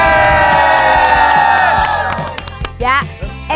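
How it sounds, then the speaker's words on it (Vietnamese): A studio audience cheers and shouts in a loud, bright burst over swelling musical tones, then the noise thins into scattered whoops and voices. "Chúng ta vỗ tay cho Khả Như và nghệ sĩ Kiều Âu Anh"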